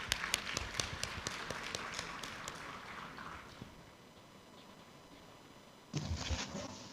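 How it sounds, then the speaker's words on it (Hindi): Audience applause at a financial freedom summit, a burst of clapping that fades away into near quiet, then a short louder patch of claps and rustle near the end. "जोरदार तालियां।"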